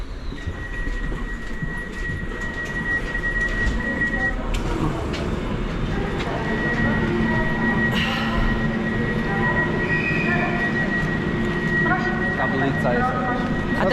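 Passenger train interior at a station stop, with steady rumbling rail noise, a faint wheel squeal, a brief tone and some mechanical clunks. People talk underneath throughout.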